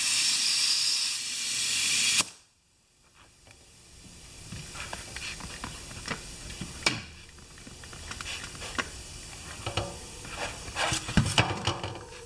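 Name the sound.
air hissing from a leaking bicycle tire valve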